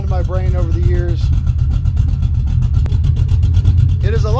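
Car engine with dumped exhaust and the tailpipes removed idling with a deep, rumbling, loud burble, running rich, while people talk over it near the start and end.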